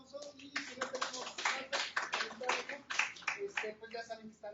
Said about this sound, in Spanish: Un caluroso aplauso